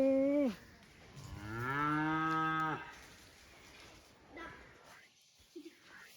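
A cow that calved the day before gives one long, drawn-out moo at moderate distance, preceded by a short vocal sound and followed by faint rustling and a few quiet voices.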